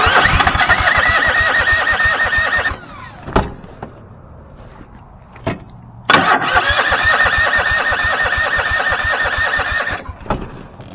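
Kohler engine on a Ferris zero-turn mower revving loudly in two bursts, each running several seconds, separated by a quieter idle with sharp clicks and knocks.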